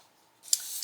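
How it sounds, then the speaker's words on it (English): A small sticker is peeled off a coloured page in a short, crisp tearing rasp that starts after a moment of silence and ends with a louder, sharper rip, close and alone. "Let me pull off my little sticker there."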